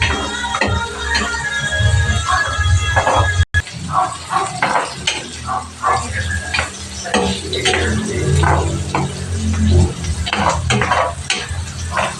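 Garlic sautéing in a pan for Filipino pork binagoongan, a close, loud sizzle with repeated scraping stirs throughout, briefly cut off and then resuming.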